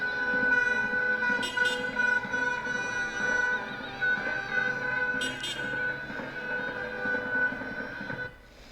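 A vehicle horn blares steadily and loudly for several seconds as a celebratory gesture at a Turkish wedding, with brief pulsing bursts, fading near the end amid a busy, noisy background.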